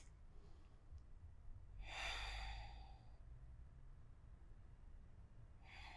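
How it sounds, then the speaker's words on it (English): A single deep breath during a yoga session, a broad breathy exhale swelling near the middle and fading, with quiet room noise around it and a hint of another breath at the end. "deep breaths."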